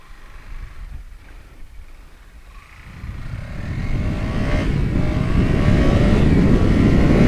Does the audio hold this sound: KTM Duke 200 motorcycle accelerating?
yes